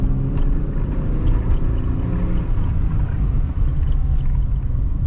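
A 1990 Chevrolet Cavalier Z24 engine pulling at low RPM, heard as a loud, steady low rumble that holds for the whole stretch with no voices over it.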